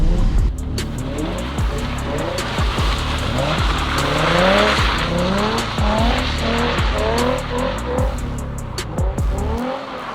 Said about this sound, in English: this right here was my last lap, and as you guys can see, like, I'm actually drifting!